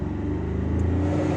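Car engine running just after ignition, a steady close low rumble with a slight rise in revs, no voices.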